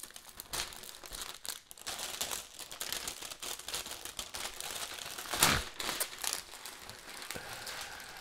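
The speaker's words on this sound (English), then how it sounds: "We're just gonna peel this open right now." Packaging of a Replicade Missile Command miniature arcade cabinet crinkles and tears as it is peeled open, a close, continuous rustle with a sharper rip near the middle.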